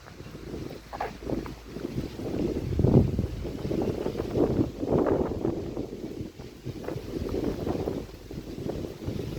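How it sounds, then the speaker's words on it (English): Strong wind gusts through a Soviet-era residential quarter in Central Asia, pressing on the microphone in uneven, rumbling surges that swell and fade over several seconds with no voices. "Here is the pretty strong wind"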